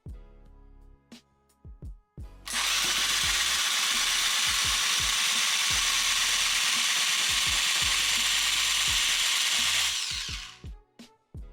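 Tufting gun fitted with a smaller needle and a loop pile head, clicking in a few short bursts, then running as a loud, steady mechanical buzz for about eight seconds before stopping, followed by more clicks.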